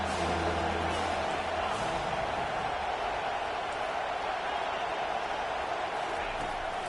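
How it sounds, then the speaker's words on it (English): Stadium crowd in the EA College Football 25 video game building noise on third down, a constant wash of roaring crowd sound at steady moderate level with no clear breaks. "decibels rising as the crowd gets behind this defense on third down"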